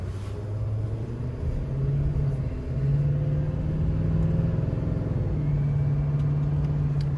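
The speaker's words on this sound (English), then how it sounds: "That 10-speed just shifts very nicely. I mean, it's going through the gears." A 2020 Chevrolet 2500 High Country pickup with a 10-speed automatic accelerating, its engine a steady low rumble that rises and eases as it shifts smoothly through gears, heard from inside the quiet cabin.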